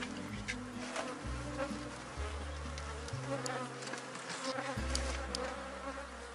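Honeybees buzz steadily and densely all around as a hive of a split colony is closed after inspection, a continuous close swarm drone with shifting pitches and no talk.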